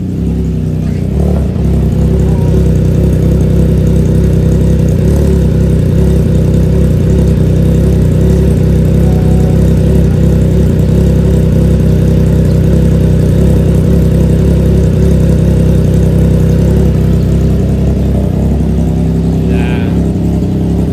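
A Triumph Trident 660 motorcycle idles with a deep, steady bass burble from its aftermarket exhaust, loud and close, holding an even rhythm throughout with a brief blip near the end.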